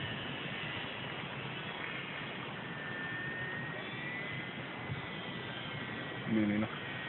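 A model Spitfire's small engine runs at reduced throttle, throttled back to under half, holding a steady, even drone throughout with only a short louder blip near the end.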